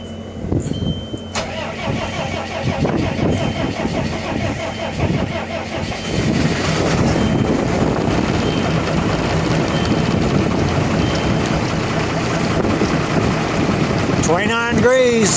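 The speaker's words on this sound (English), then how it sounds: "we'll do a cold start on the Ford F700 with the mechanical base series in" A Ford F700 truck's mechanical 12-valve Cummins diesel with no air intake heater cranks and fires from cold, then settles into a loud, steady, rattly idle, with a voice over the engine.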